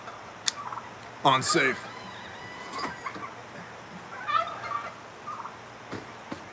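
Turkeys on a homestead gobble in several loud, rippling bursts, one big call and a few shorter ones spread across the stretch, with a brief spoken word in between.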